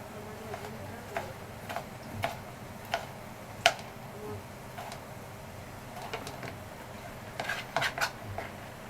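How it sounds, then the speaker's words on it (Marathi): A knife finely chops tomatoes on a board for egg bhurji, giving irregular, faint light taps spaced about a second apart, clustering faster near the end over a low steady background hum. "टमाटर तसं आपला बारीकच कापून घ्यायचा एकदम,"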